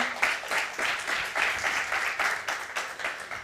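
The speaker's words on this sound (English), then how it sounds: "so an applause for him, please" Audience applause at an onsite startup pitch competition, a dense steady clapping from a crowd in a hall, fairly loud and close, with no talk over it.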